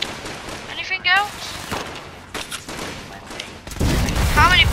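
Bursts of gunfire from a video game fight against protectron robots, sharp shots with ringing whistling tones and a heavy rumbling burst at the end, loud and close.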